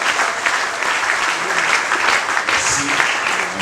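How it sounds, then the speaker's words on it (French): A church congregation bursts into loud, sustained applause, dense clapping from many hands filling the space close by with no pauses. "Est-ce que vous ne pouvez pas vous acclamer vous-même?"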